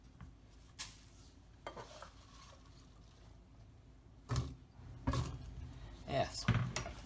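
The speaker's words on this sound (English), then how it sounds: "now we're going to take 6 cups of apples that we cut up. We're going to put them right into here." Cut-up apples are tipped into a bowl of apple cake batter, producing a few soft thuds and clattering bursts against the bowl, with quieter handling sounds between and a person speaking nearby.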